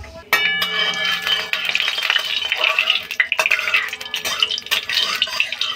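Nigella seeds dropped into about a spoonful of hot oil in a pan crackle and sizzle loudly and close by, a spoon clinking and stirring now and then through a busy, uneven fry.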